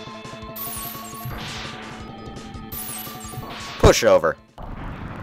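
Rapid bursts of explosions at the end of a boss fight in the game Mega Man X, a dense crunchy crash peaking near the end over game music, with a short spoken phrase.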